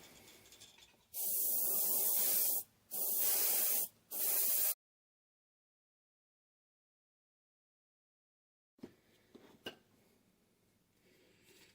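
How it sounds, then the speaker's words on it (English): Paint is sprayed onto a translucent jerk bait minnow fishing lure in three loud, steady hissing bursts close to the microphone, then a long silence follows with a few faint clicks and handling noises. "I'm going to spray the center portion here, and they're going to get a little overlap."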